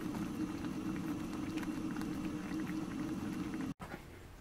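Sauce of honey and veal stock simmering gently in a pan, a steady dense bubbling that carries on evenly and close, with a brief dropout near the end and no talk.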